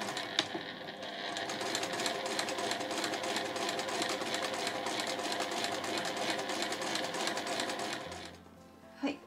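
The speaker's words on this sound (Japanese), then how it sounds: "同じように縫っていきます" A sewing machine stitches a small fabric pouch with a rapid, even whirring clatter that runs steadily for about eight seconds, then stops with a few soft handling clicks.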